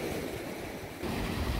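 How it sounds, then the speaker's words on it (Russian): Murky sea surf after a storm, a broad washing roar of waves with wind buffeting the microphone, steady and swelling louder toward the end, no speech. "Маленько подуспокоился шторм. Но мутное такое море, просто мутное поблизости."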